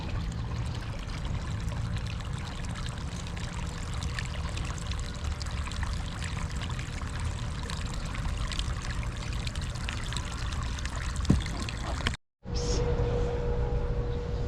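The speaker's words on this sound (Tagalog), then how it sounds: "Tapos yun, istakan ko na rin ng tubig yung mga una kong binasa." Water pours steadily onto rice seedlings in a field, a continuous close splashing stream that runs for several seconds, briefly cuts out, then resumes.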